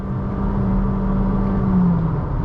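A new Honda City with a CVT gearbox accelerates from inside the cabin, its engine holding a steady drone whose pitch rises smoothly and slightly dips near the end, with constant road rumble underneath.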